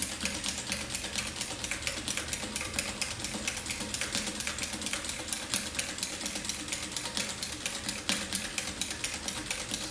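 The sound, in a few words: industrial sewing machine with buttonhole attachment sewing a buttonhole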